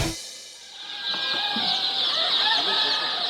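White silkie chickens on a farm cluck and chirp in a dense, overlapping chorus, with a steady high-pitched peeping throughout and no talk.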